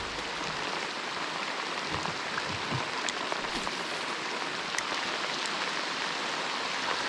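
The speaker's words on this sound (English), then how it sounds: "Well, another rainy day out here." Rain falls steadily on a river during a fishing float, a dense even hiss of drops with occasional brighter patters, continuous and close, with no voices.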